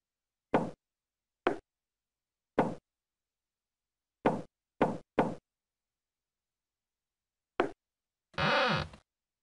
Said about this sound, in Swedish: Röda dörren. Knacka på.